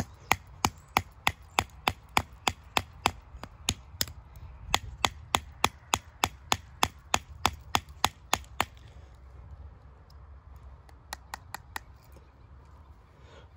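Gerber Armbar Slimcut knife being struck through wood to split it, a long run of sharp, evenly spaced knocks, close and clear, thinning out into a few scattered taps at the end.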